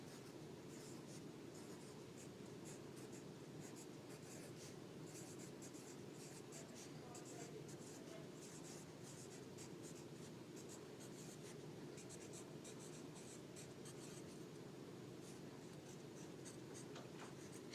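A pencil writes a math definition on the first line of a composition notebook, a close, continuous soft scratching steady throughout.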